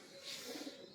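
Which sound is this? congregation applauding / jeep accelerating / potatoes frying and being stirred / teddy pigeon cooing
teddy pigeon cooing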